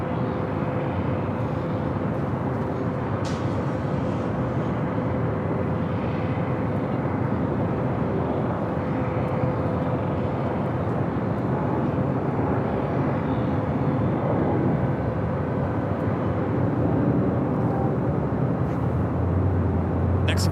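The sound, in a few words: Air Tahiti Nui Boeing 787-9 Dreamliner arriving at LAX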